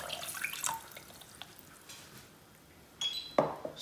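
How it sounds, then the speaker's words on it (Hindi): Water poured into a cooking pan to make sugar syrup for gulab jamun, a faint trickling splash that swells into a brief, louder pour near the end. "1 कप इसमें जाएगा पानी।"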